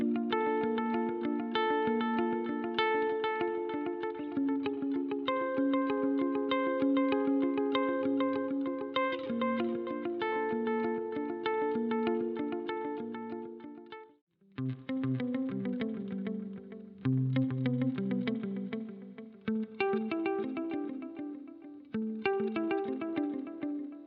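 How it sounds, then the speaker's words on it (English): Electric guitar through a Boss RV-500 tape echo set to one head, with modulated dotted-eighth repeats: sustained chords and notes trailing into wavering echoes, played continuously with a brief pause midway. "I'm going to add in the echo which is like a tape echo. I've got it set to be one tape head, and I've got a little bit of modulation on the repeats"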